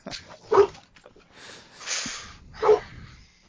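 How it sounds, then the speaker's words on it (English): Puppies in a room nearby give a couple of short yips and whimpers, moderately loud, with faint background voices in between. "I can hear the puppy in the background"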